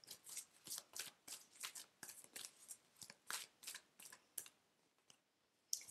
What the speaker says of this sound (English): let me pull you guys some Oracle cards